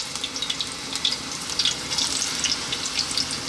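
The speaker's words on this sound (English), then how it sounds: "we're going to fry this for like 2 minutes aside" Plantain frying in hot sunflower oil, a continuous crackling sizzle with bursts of popping, close and fairly loud, no voices.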